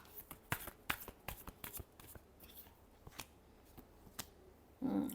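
Tarot cards being shuffled by hand, heard up close as a quiet, uneven run of soft riffling clicks and flicks, ending in a brief, louder rustling thump.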